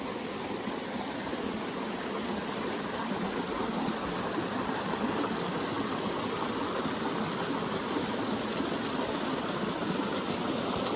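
A waterfall rushes in a continuous, even broadband roar, steady and full without pauses or voices.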